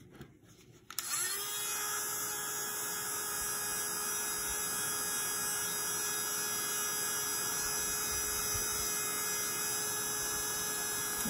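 A heat tool starts up and runs with a loud, steady electric whir and hum, warming alcohol ink and foundry wax without pause.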